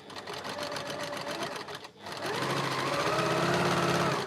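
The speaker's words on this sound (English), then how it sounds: "I feed this through the sewing machine." A sewing machine stitches quilt block pieces with a rapid, even mechanical whir, briefly dipping and pausing before resuming louder and steady, close up with no talking.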